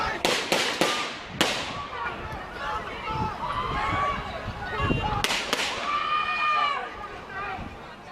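Police firearms officers opening fire on a London street, several sharp loud cracks in a quick burst at the start and another pair of bangs later, amid crowd commotion and shouting voices.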